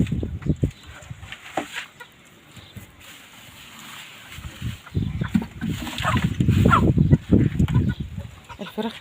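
Chickens cluck and scurry around a coop floor strewn with feathers and debris, giving scattered close clucks and scuffling bursts with some louder flurries and faint background voices.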